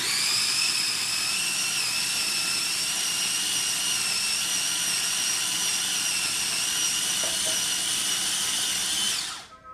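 A food processor grinds pesto with spinach and oil, a loud steady high whine that runs without a break for nearly ten seconds before the motor cuts out and spins down, with no talking.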